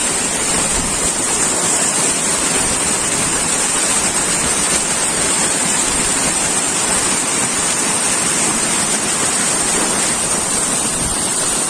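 Cold water pours down a waterfall in a loud, constant, hissing roar close by, steady throughout with no voices.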